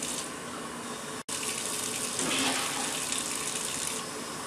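Tap water gushes steadily into a pot for making canning syrup in a home kitchen, a continuous close splashing flow with a brief dropout early on, no talking.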